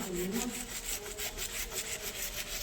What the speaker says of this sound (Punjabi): ਇੱਥੇ ਇਸ ਤਰੀਕੇ ਨਾਲ ਆਪਾਂ ਰਗੜ ਲਾਂਗੇ ਇਹਨੂੰ